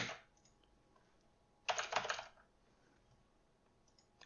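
Typing on a computer keyboard while entering code, heard as a faint patter at the start and then a dense, close burst of rapid key clicks lasting under a second, followed by quiet.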